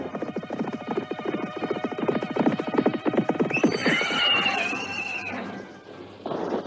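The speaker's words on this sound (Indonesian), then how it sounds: "Buktinya dia terus memacu kudanya ke arah kita." Horse galloping toward the listener, a fast, steady clip-clop of hooves that grows louder and then gives way to a loud neigh, close and on its own.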